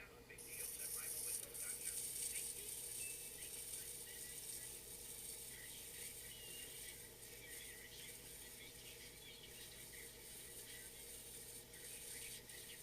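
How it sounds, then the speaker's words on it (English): Home vinyl record cutter scratching as its stylus cuts a groove into a blank disc, a steady close mechanical ratcheting grind with faint high whine running throughout. "I can hear the record itself making a scratching noise as it cuts into it."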